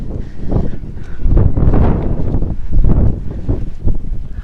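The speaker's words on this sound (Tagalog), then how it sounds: "Lakas ng hangin!" Strong wind buffets the microphone near a rice field, loud low rumbling gusts rising and falling throughout.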